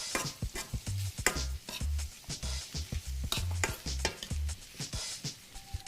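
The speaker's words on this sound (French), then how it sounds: "On va mélanger." A tomato mixture with spices and herbs is stirred in a pot, giving soft repeated scraping and clacking strokes in a steady rhythm, close and moderately quiet.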